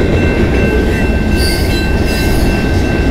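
CN freight train M397, running on the Dundas Subdivision at Colborne Street in London, Ontario, rumbles past close by with a steady roar of wheels on rails and a faint high squeal.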